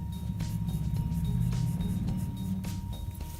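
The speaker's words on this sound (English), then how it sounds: "There's a motorcycle." Motorcycle passing by outdoors, a low rumbling engine that swells and fades over a few seconds, heard at moderate distance under faint background noise.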